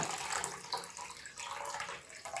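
Pickle brine splashes and gurgles steadily as it is poured out of a jar of fermented cucumbers, a quiet, continuous trickling stream.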